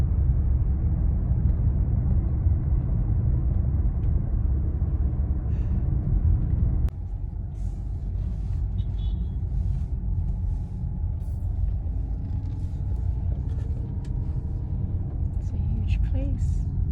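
Car engine rumbling steadily while driving, loud low-frequency drone throughout, dropping slightly in level partway through as the cabin noise shifts, with occasional faint thumps and rattles.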